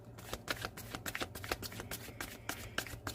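Tarot cards shuffled by hand in a steady run of crisp riffling bursts, close and fairly quiet, with soft low hum underneath and no talking.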